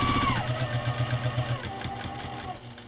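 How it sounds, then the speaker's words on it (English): Sewing machine stitching fabric with interfacing, a continuous mechanical hum with a quick rhythmic needle pulse that shifts pitch as the speed changes. "I'm gonna sew to my other blue line."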